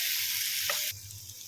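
Onions with salt and turmeric frying in a pan for a traditional stuffed brinjal dish, a soft, even close sizzle with a brief stirring scrape midway.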